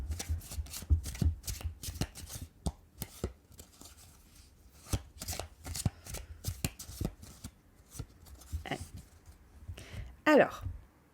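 Tarot cards shuffled by hand for a reading, giving quick riffling bursts and sharp snapping taps in an irregular rhythm, close and fairly quiet, with a soft voice speaking at times.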